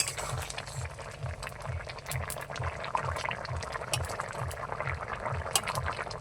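A curry of potatoes and fish roe boils in a covered pot, its lid rattling in a steady, rhythmic pulse over a dense bubbling simmer, close and moderately loud.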